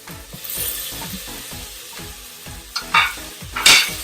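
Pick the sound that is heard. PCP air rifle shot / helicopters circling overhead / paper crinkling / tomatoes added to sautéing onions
tomatoes added to sautéing onions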